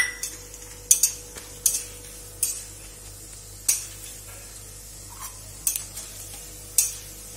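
Futane, roasted chickpeas, being stirred in a pan, with sharp scraping clinks of a spatula against metal recurring every second or so over a faint steady background, no talking.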